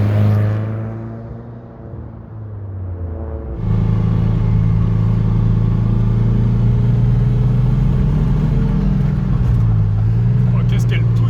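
An old van's engine drives along a quiet country road with almost no traffic, a steady loud rumble that rises in pitch as it accelerates partway through, then holds a constant drone.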